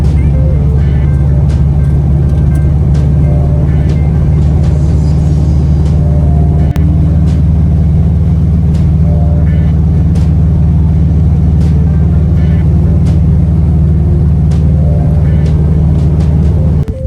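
A Subaru WRX drives on a test run just after its fuel pump was replaced, its engine giving a steady, loud drone from inside the cabin.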